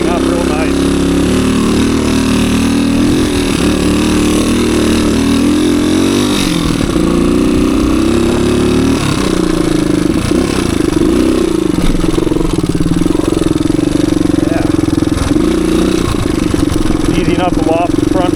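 A 1985 Suzuki DR250 trail motorcycle labours through woods, its single-cylinder engine droning steadily and loudly throughout with fluctuating revs, never fading.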